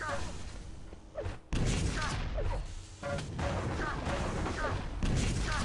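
Rapid rocket-launcher blasts and thuds from a competitive video game match, a burst of several sharp impacts under continuous commentary from casters talking excitedly over the action.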